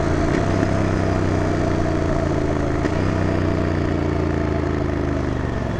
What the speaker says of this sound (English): try doing clutchless rev matching